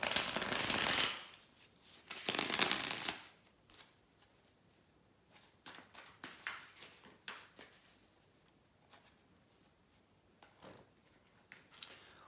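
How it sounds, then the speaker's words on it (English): A deck of tarot cards is shuffled in a few quick riffling bursts, then lighter intermittent flicks and taps, close and fairly quiet. "give me a couple of seconds, guys, to shuffle the cards."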